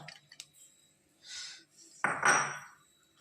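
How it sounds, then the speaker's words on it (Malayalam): Dry lentils (dal) tipped into a pressure cooker, heard as a few faint clinks and a short rattling pour, ending in a louder rush of grains against metal. "കുക്കറിലോട്ട് പരിപ്പ് ഇട്ട് കൊടുക്കാം കേട്ടോ"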